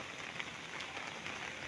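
Rain falls steadily in a village with streams and drains, a faint, even hiss of drops spattering on surfaces from start to end, with no voices.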